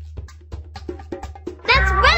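A cartoon cat meows loudly in a Dora the Explorer farm video game, following a series of light rhythmic taps or footsteps, with a drawn-out wavering meow at the end.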